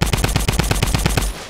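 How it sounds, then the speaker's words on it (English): Rapid automatic gunfire in the Fortnite video game, a loud close burst of about a dozen evenly spaced shots in quick rhythm that stops abruptly. "shooting, keep shooting, keep shooting."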